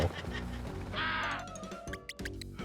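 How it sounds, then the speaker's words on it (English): Enemies in Pac-Man World Re-Pac dying with bird-like squawks, a couple of quacking, cawing calls over game sounds, with one bright tonal cry in the middle. "they die and they sound like birds"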